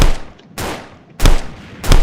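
Cartoony explosion effects from a Unity-built video game, several booming bursts going off in a row, each a loud broadband blast that tails off into rumble before the next hits.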